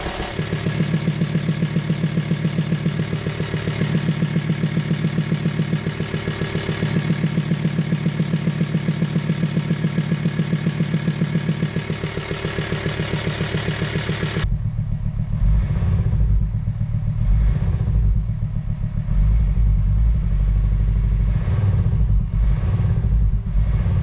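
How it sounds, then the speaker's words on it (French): A Volkswagen Transporter T5 engine idles steadily and loudly up close, first with a dense even drone, then with the air box opened, a rougher, lower, pulsing plop-like throb; no one speaks. "le moteur d'origine est assez bruyant"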